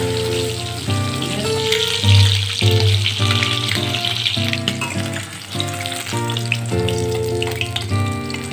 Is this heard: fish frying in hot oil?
yes